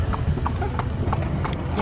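Horse hooves clip-clop in a steady, brisk rhythm during a carriage-style horse ride from a temple back into an Egyptian city, close and clear over a constant rumble of road noise.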